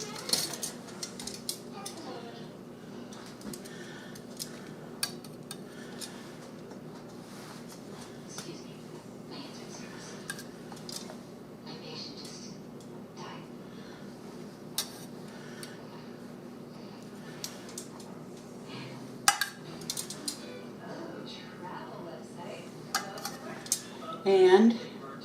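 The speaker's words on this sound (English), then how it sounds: "Now I'm going to put the peppers back in, but I'm going to put them in, right side up." Stuffed bell peppers set back into a dish by hand, with light scattered clinks and taps of cookware over a steady low kitchen hum, ending in a few louder knocks.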